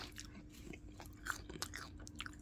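Someone chews greasy fried fish and chips cooked in sunflower oil, soft close mouth sounds with faint crunchy bites, quiet and without talking.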